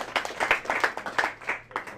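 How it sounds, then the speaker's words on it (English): A small group at a game development club officer election meeting claps after a vice-presidential candidate's speech, with sparse, distinct hand claps in an uneven rhythm that sound close and fairly loud in a room. "clap first."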